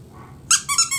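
Five-week-old puppies let out a quick series of three or four high, thin squeaks, close and fairly loud over a soft low background hum.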